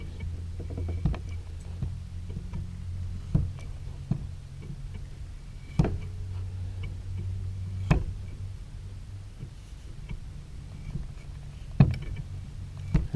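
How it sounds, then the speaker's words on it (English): A grease gun pumping grease into the transmission of a Honda FG110 mini tiller, slow irregular clicks and squeaks from the lever strokes over a low steady hum, close and fairly quiet. "I'm pumping a whole bunch of grease into here"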